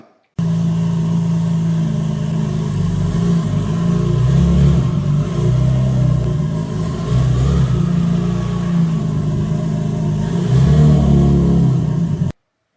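A Toyota Supra engine rumbles loudly and steadily, rising in revs as it pulls away after a clutch repair, with a deep throaty tone throughout.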